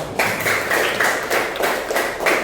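A class claps for Tara in a quick, even rhythm, each clap landing in unison about four times a second, loud and close with no talking over it.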